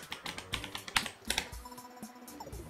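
Keys clatter on a computer keyboard as a password is entered in a Linux terminal, a quick irregular run of close, crisp clicks with a few louder strokes and short pauses.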